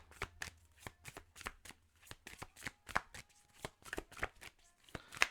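Tarot cards are shuffled in quick, close, crisp riffles and slaps, an uneven run of soft card flicks in a quiet room.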